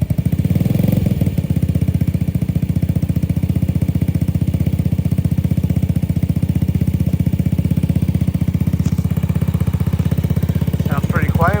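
A Honda Ruckus scooter fitted with a Hotlap Sidewinder exhaust idles loudly and steadily nearby with a fast, even putter, a brief surge near the start, and a short voice toward the end.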